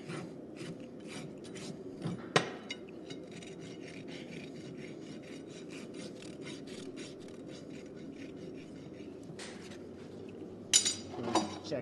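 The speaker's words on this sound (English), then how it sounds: "I'm gonna take my green tang, Heller rasp" A farrier works a green tang Heller rasp across a horse's hoof during trimming, giving continuous scraping strokes, close and fairly quiet, with a couple of sharper knocks and no talking.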